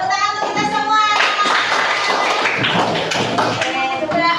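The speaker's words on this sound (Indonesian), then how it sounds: "tepuk tangan untuk kita semua" A fourth-grade class of children taps and claps together in a classroom, a busy patter of hands and light thumps with children's voices mixed in.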